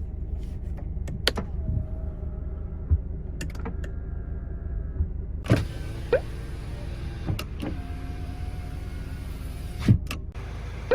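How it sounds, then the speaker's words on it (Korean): Electric folding side mirrors on a Hyundai All New Tucson SUV whir and click through their motors, a few short mechanical bursts with sharp clicks separated by quiet pauses in a still cabin. "접이식 사이드미러"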